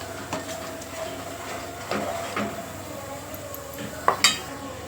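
Masala for a Khandeshi-style chicken curry cooking in a pan, a quiet sizzle with occasional utensil clinks and scrapes, a few sharper knocks near the end.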